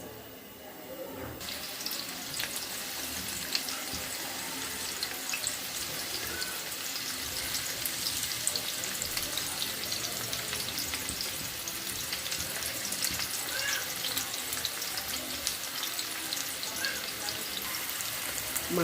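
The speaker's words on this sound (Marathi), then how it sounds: "थोडंसं गरम झालं ना की त्यामध्ये कांदा टाकायचा." Onion drops into hot oil in a pot with a steady, hissing fry that stays moderately faint and even throughout, with a voice speaking softly at times.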